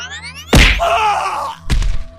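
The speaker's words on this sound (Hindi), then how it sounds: "तभी दूसरा हाथ आता है और शिवम के जोर से मुक्का मारता है" A sharp slap-and-punch sound effect from a Hindi ghost story: a loud whack with a groaning tail, then a second heavy thud, both close and punchy, alone without speech.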